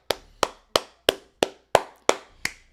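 Hand clapping in an even, steady rhythm, about eight sharp claps spaced roughly a third of a second apart, close and fairly soft, with no voices over them.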